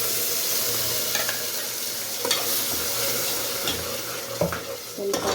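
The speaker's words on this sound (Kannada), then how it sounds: "ಸ್ವಲ್ಪ ಹಸಿ ವಾಸನೆ ಹೋಗೋವರೆಗೂ ಫ್ರೈ ಮಾಡ್ಕೊಳ್ಳೋಣ." Ground masala paste for palak paneer rice frying in a pan, a continuous close sizzle with a few scattered scrapes and knocks of a spoon, no talking.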